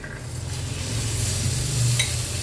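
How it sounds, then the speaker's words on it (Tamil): Cooked black chickpeas are stirred into kadalai curry in a pan, a close sizzle with soft scraping and stirring sounds that build slightly and are joined by a brief clink near the end. "சேர்த்துட்டு நல்லா கிளறி விடுங்க"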